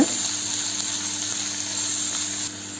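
Finely chopped onions sautéing in a hot pan for egg rice, a constant close sizzle with faint scraping, no speech.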